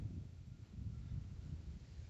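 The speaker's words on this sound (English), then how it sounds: "It's just a little bit windy" Wind blows at the Quemahoning Reservoir while fishing from the shore, a steady low rumble buffeting the microphone throughout, with no other distinct sounds.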